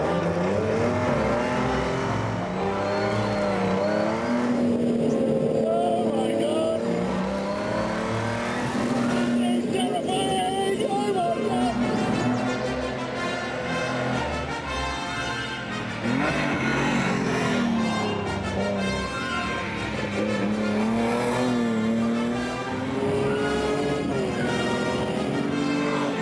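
A car drives fast on a track with warmed tyres, its engine note rising and falling through gear changes, mostly alone with brief talk over it.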